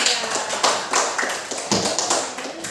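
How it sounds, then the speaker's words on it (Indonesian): Classroom of students clapping for a student group after its presentation, a modest scattering of hands producing uneven, bursty claps that rise and dip across a few seconds. "tepuk tangan dulu untuk kelompok 3"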